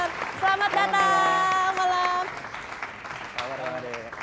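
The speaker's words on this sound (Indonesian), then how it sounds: "Tepuk tangan untuk Bang Ade Daud Nasution." An indoor audience applauds as a guest arrives on a 2008 Indonesian parody talk show stage. The clapping forms a steady patter under a host speaking loudly over it.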